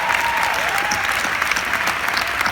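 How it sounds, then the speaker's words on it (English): A dense, steady wash of applause from a large convention crowd at a Broadway musical panel, loud and sustained throughout with no talking over it. "Let's all applaud them."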